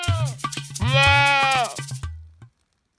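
Goats bleat at a goat yoga session, a loud, close, drawn-out wavering bleat between shorter calls, then the sound cuts off into silence.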